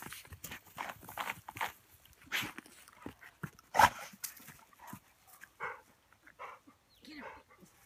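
Dogs chase mice and dig in the yard, giving several sharp, scattered barks and rustling amid shouted encouragement from a person, with one louder bark standing out midway.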